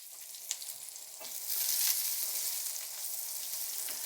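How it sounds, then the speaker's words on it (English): Guanciale frying in olive oil in a pan gives a steady bright sizzle with small pops and crackles, swelling louder midway and continuing close up with no talk. "I'm going to add in some olive oil before I add in my guanciale, making sure it doesn't stick"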